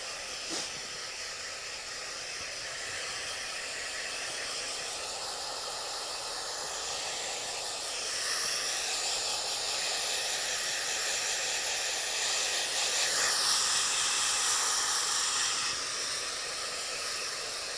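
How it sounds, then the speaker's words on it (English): A hair dryer blow-drying a man's hair flat during a salon cut, a continuous close hissing airflow that swells slightly as the dryer moves, no talking. "So blow drying everything flat"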